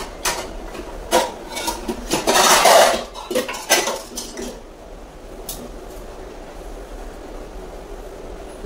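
Metal pots, pans and a kadhai clank and clatter in a home kitchen during lunch preparation, a burst of close, sharp knocks and scrapes over the first few seconds, then quieter with faint background hum.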